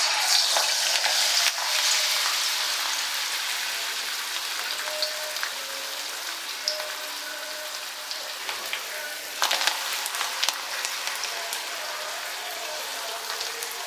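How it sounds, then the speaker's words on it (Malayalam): Batter-coated spinach leaves fry in hot oil for crispy fritters, making a continuous close sizzle with bubbling crackle and a few louder spatters. "നമുക്കിനി ഓരോ ഇല എടുത്ത് ഈ മാവിൽ മുക്കി ചൂടായ എണ്ണയിലേക്ക് ഇടാം."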